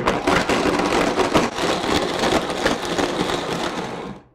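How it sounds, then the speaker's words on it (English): A kitchen blender runs on its smoothie setting, blending a green smoothie with a loud, steady whir and rattle that holds for about four seconds before cutting off. "You just put this all in a blender, and I'm going to put the setting on for the smoothie and power away."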